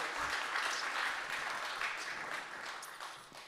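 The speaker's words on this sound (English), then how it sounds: "Please, big applause for her." Conference audience applauds Dr. Sabine de May, director of the Flanders Artificial Intelligence Program at IMEC, with a sustained wash of many clapping hands that fades gradually toward the end.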